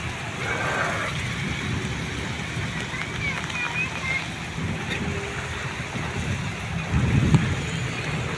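Heavy rain pours steadily with a dense, rushing roar and strong low rumble, swelling louder near the end; a voice is faintly audible underneath.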